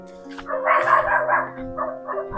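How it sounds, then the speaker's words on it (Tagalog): A village dog barks and yips in a quick burst of several close, loud barks, with no one speaking over it. "Tumatahol yung aso."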